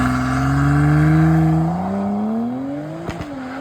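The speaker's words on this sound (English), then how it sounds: "He just retrofitted an F90 M5 exhaust onto his car. This thing sounds so freaking good now." A car fitted with a retrofitted BMW F90 M5 exhaust revs up and holds a deep, loud drone, then the pitch dips and rises again before a couple of sharp crackles near the end.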